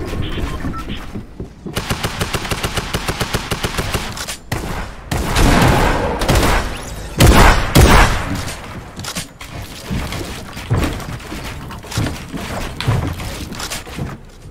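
Video game gunfire in a competitive battle royale match: loud, close rapid bursts and heavy single shots with thuds and mechanical clatter, firing in irregular clusters without talk.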